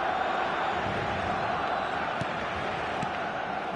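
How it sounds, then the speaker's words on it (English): A football stadium crowd in a video game match roars as a steady, dense wash of noise, loud and continuous with no distinct peaks, and no voices stand out. "the crowd level has gone up a notch or 10"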